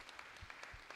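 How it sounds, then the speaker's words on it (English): Graduation ceremony attendees clap briefly, a faint, quick burst of scattered hand claps in a large room. "And a clap for yourselves, please."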